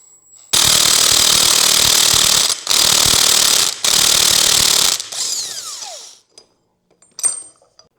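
A tool loosens the pulley nut on a 1987 Harley FXRS-SP motorcycle in three loud, harsh, two-second bursts of rapid ratcheting, then winds down, ending with a short final burst. Nobody speaks.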